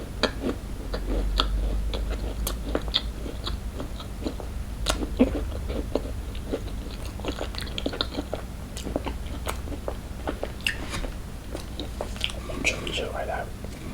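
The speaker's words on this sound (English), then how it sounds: "This is just a regular chocolate chip cookie that we're about to get into." Close, crisp bites and wet chewing on a Crumbl chocolate chip cookie, with repeated crunchy snaps scattered throughout and soft whispered talk running underneath.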